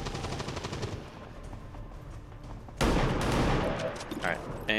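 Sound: pistol shot in the video game XCOM 2

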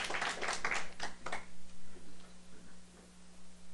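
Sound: audience applause

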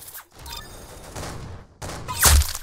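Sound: gunshot in the video game Roblox Arsenal

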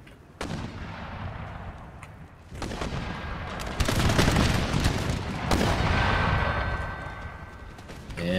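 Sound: troops firing volleys in Empire Total War video game

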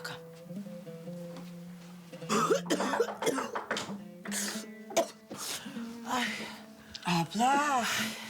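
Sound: coughing

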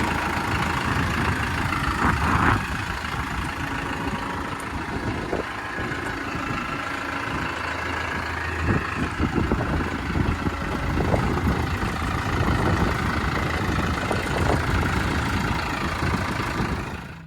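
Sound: tractor engine idling

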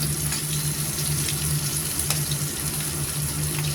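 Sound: shrimp frying in a pan

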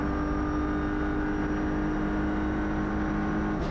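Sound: Audi RS3 LMS WTCR race car onboard on track

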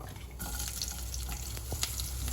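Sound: garlic frying in a pan

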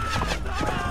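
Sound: horse hooves clip-clopping in video game Gekokujo

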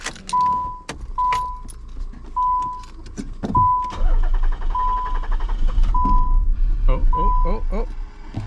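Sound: Nissan Gloria car engine starting after sitting for months

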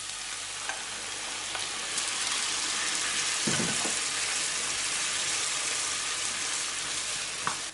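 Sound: grated tomatoes and pepper paste sizzling in a pan

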